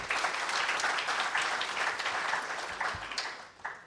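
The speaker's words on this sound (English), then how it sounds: "You please have a huge round of applause for him" Workshop audience applauding in a hall, a steady dense wash of clapping hands lasting several seconds and tapering slightly toward the end.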